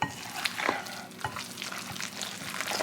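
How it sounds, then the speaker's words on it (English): Lemon blueberry cake batter being mixed in a bowl, with wet scraping and stirring strokes and small clinks in an uneven rhythm, close and moderately loud, with no talking. "Let's give this a mix."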